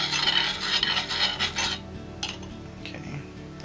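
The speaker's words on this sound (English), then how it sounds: "So, just mix that up in there." Dry conjure dirt and powdered herbs are stirred and scraped together in a container, a gritty rasping that runs steadily, then fades to faint scattered scratches.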